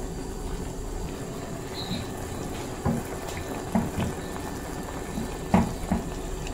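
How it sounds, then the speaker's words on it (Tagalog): Vinegar poured into sautéed pork adobo cooking with turmeric in a pan gives a soft, continuous liquid hiss and bubbling, with occasional light clinks of a utensil. "Ayan po, ilagay ko na yung suka."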